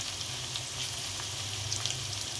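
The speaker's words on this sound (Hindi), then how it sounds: "अब गैस स्लो कर रही हूँ और मसाले मिक्स कर रही हूँ।" Potatoes, onions and spices cooking in a pan on a low gas flame give a steady, close sizzle with faint scraping of stirring throughout, no voices.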